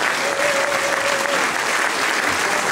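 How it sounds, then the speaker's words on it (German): An audience claps for Herr Ziegler at a reception in Waldstetten, a dense, even burst of applause filling the hall throughout with no break. "Ein Applaus für den Herr Ziegler im Vorstand jedenfalls"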